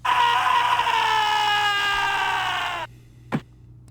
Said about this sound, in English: Rosco's death scream is blood-curdling